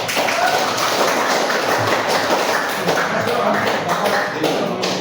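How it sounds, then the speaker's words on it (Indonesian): Room full of people applauding a student group after their presentation, continuous loud clapping close by with a bit of shuffling and voices underneath. "Kita beri tepuk tangan untuk kelompok 4."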